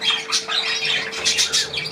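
Harsh, raspy bird squawks come in quick repeated bursts close by, loud and scratchy, with a steady faint tone in the background.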